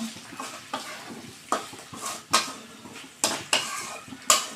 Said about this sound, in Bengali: এবার আমি ভেজে রাখা মাংসগুলো দিয়ে দেব, দিয়ে বেশ করে কষিয়ে নেব।